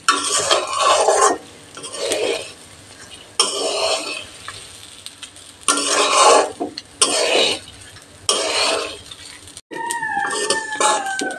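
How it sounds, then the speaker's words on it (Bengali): Basmati rice is stirred in a pan over low to medium heat, with scraping and clinking bursts from the spatula against the pan in repeated strokes, then a brief quieter stretch at the end. "চাল চিটচিট করে ফুটছে, চাল ভাজা হয়ে গেছে।"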